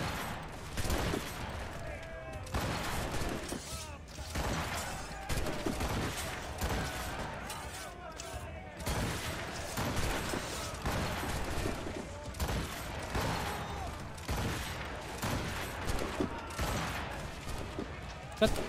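Rapid bursts of gunfire crackle through a ship boarding fight in Assassin's Creed Rogue, dense volleys repeating over nearly twenty seconds, with someone talking over the shooting.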